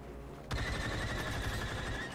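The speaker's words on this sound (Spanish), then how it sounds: "Es que aparte el disparo de Aiden me encanta. Esta pistola es mi favorita, sin duda alguna." Iden Versio's blaster pistol firing in Star Wars Battlefront 2, a sharp loud shot bursting in after half a second of quiet, followed by a sustained ringing, crackling wash of gunfire and battle noise with no talk.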